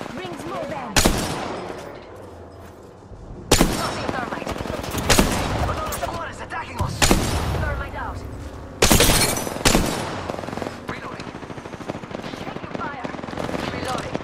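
Bursts of auto shotgun fire in Apex Legends, several loud blasts spaced a second or two apart over a continuous wash of game noise, with a voice talking underneath.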